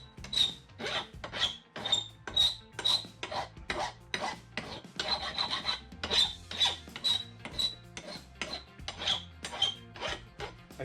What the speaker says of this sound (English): if you use a fine file rather than a coarse one, the finer one's a lot easier to do this stuff